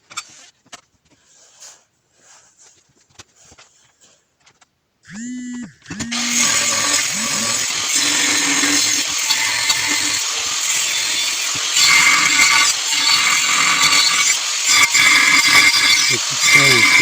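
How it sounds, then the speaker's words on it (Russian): Homemade cut-off saw built from a 230 mm angle grinder, starting up after a few quiet clicks and then whining steadily and loudly as it cuts metal, continuing to the end. "главное, чтобы болгарка стояла ровно прямо по отношению к маятнику"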